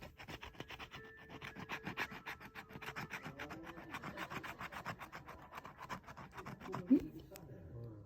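A coin scratching a lottery scratch card, with steady repeated rasping strokes close by and soft under quiet talk.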